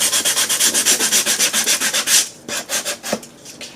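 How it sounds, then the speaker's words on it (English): An emery board sands the edge of a paper box in quick, even back-and-forth strokes, close and loud with a brisk scratchy rhythm of about five strokes per second, slowing into a few looser rubs at the end. "I'm going to take my emery board"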